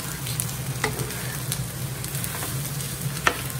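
Egg being stirred through Japanese fried rice in a pan, with steady sizzling and scraping spatula strokes at irregular intervals, close and moderately loud, no talking.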